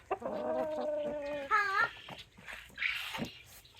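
Chickens cluck and squawk in short bursts close by, mixed with a person's voice speaking in the background.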